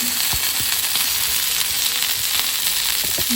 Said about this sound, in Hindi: आता जेवण सर्व करता सुंगटां माझी फ्राय जावपाक केली ऑलमोस्ट